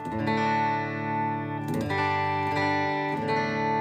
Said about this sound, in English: This is a analog delay